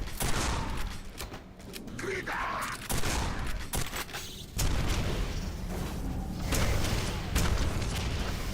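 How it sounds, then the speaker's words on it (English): Rocket explosions and weapon fire in the Quake 4 video game, with loud repeated booms and mechanical clatter in a dense, continuous run of combat. "Oh, you can survive 2 rockets, eh?"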